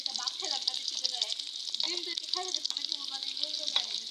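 Chopped onion fries in a pan (kadai) on the stove, giving a steady, fairly faint hiss and sizzle while a voice talks over it.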